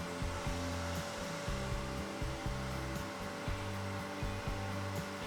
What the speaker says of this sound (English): then buff with the lathe running for about a minute